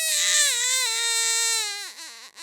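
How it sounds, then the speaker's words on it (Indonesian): Horror-story sound effect of a baby crying loudly, one sustained high wailing cry that drops and breaks into sobbing hiccups at the end, close and alone. "aku dengar adekku nangis kencang banget."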